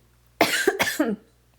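A single close, harsh cough with two quick bursts, loud and brief, in an otherwise quiet room.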